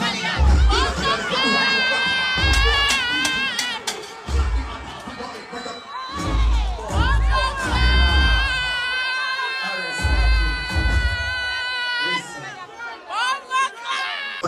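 At a live concert, a crowd cheers loudly for a song, with shouting, whoops and chatter mixed with sung voices, staying loud throughout with brief dips.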